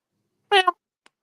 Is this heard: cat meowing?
yes